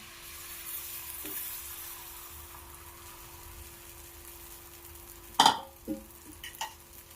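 Two beaten eggs for a masala omelette fry in melted butter in a pan, a low steady sizzle with a sharp burst of crackling and a few clinks of utensils near the end, no speech.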